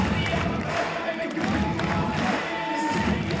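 Spectators at a men's bouldering final in Prague cheer and call out to a climber, a steady roar of crowd voices with scattered claps and thumps, and a commentator talking over it.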